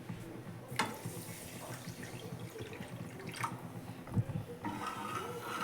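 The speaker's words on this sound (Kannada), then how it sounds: "ಇವಾಗ ಇದೇ ಕಪ್ಪಲ್ಲಿ ನೀರು ಹಾಕೊತೀನಿ" Water poured from a cup onto sugar in a pan to start a sugar syrup for a sweet dish, a soft trickling splash with brief louder bursts against a faint kitchen background.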